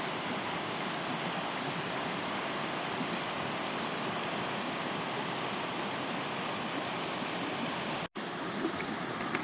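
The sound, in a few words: water flowing over the shoals of Hatchet Creek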